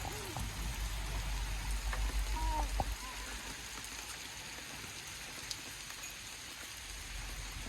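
Rain falls steadily after a hot, humid day, a dense close hiss of drops with some pattering, while a few brief voice sounds come through early on.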